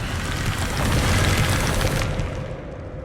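A Confringo spell explosion in Hogwarts Legacy erupts as a loud, sustained boom with crackling burst, holding strong for about two seconds before fading into a quieter rumble.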